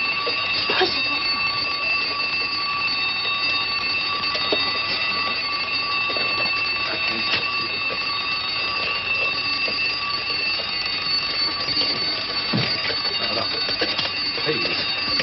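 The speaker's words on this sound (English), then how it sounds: "I'll set the alarm." An alarm clock rings continuously in a 1941 film scene, a shrill, metallic, sustained ring that lasts throughout. Occasional voices and movement are heard underneath.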